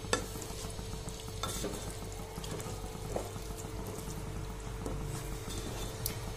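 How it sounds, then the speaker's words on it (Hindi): Dal, rice and mixed vegetables roast on a high flame for a vegetable tahari, a low steady sizzle under repeated scrapes and knocks of a stirring spoon, close but fairly quiet, with no voices. "फ्लेम को हाई कर दीजिए और चलाते हुए 2-3 मिनट तक इनको भून लीजिए"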